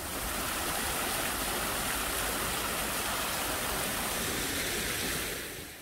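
An artificial waterfall in a park with wetland deck paths gives a steady, dense rush of falling water, constant and fairly soft, fading slightly at the end.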